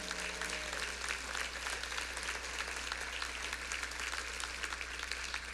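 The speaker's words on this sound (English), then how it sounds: "How about a big round of applause for Blue Cross Blue Shield?" Steady audience applause at a business event on Arizona's Hispanic market, a dense field of many hands clapping continuously at moderate loudness, with a low hum underneath and no voices.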